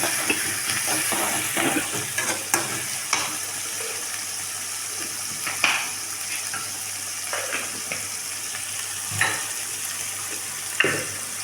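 Blended tomato masala sautés in a pan with a soft continuous sizzle. Intermittent spatula scrapes and taps come every second or two, close by and with no voices.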